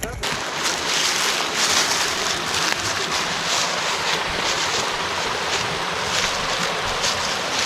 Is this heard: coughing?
no